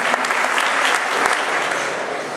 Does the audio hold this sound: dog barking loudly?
no